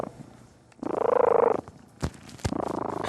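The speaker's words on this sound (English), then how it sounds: "I've never heard a purr like this in my life" A cat purrs close by in a steady, rumbling burst lasting about a second, followed by a few softer purring breaths, with no talk over it.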